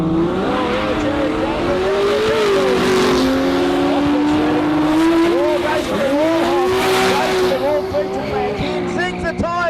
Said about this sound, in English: He zings the tyres all the way through the finish line